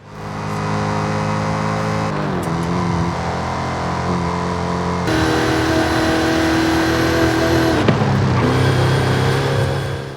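A swapped V8 engine in a car in Forza Horizon 5 revs loudly and steadily, its pitch shifting as the throttle changes, with a short dip and a gear-change-like break partway through and no talking.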